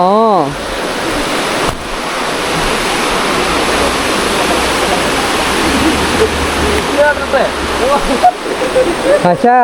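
Steady rushing river water flows continuously near a temple on a Kerala ride, a broad churning wash, with brief louder splashy bursts toward the end and no clear talk over it.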